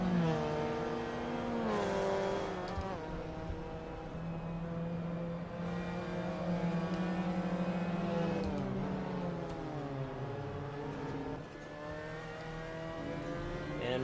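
Mazda RX-5 Cup race car in the sim racing game Assetto Corsa at Road Atlanta, its engine droning steadily with pitch rising through gears and dropping on downshifts, loud and continuous throughout.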